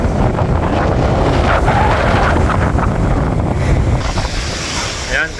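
Strong wind buffets the microphone at Maraetai Beach in South Auckland, a loud, continuous rushing roar mixed with surf, easing slightly toward the end.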